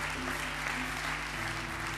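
Congregation applauding in praise of the Lord during a night prayer vigil at a church, a steady wash of clapping from many hands filling the room for about two seconds without pause.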